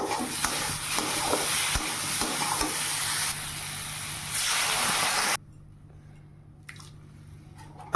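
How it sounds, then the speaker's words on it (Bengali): Potatoes sautéed and stirred with salt and turmeric in a pan give a steady close sizzle with stirring scrapes. After about five seconds the frying drops to a quieter simmer with occasional small clinks. No one speaks. "তো আলু দিয়ে দিলাম, লবণ হলুদ সব দিয়ে ভালো করে আলুটাকে কষিয়ে নিয়ে জল ঢেলে দেবো।"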